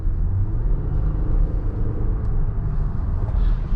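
A 2024 Infiniti QX60 Autograph luxury SUV heard from inside while it drives around a corner, a steady low road rumble and muted engine drone filling the cabin at constant level, with no talking.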